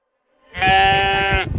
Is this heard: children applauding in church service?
no